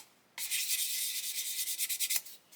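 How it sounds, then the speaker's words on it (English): Close, steady back-and-forth rubbing of fine sandpaper on a plastic part from an Airfix 1/72 Lancaster B.III Dambuster kit, a bright scratchy rasp lasting about two seconds with slight pulsing strokes. "we're going to be sanding here anyway"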